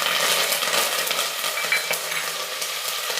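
Fresh curry leaves sizzle loudly in hot oil for a tempering, with continuous crackling frying and occasional stirring clinks close by.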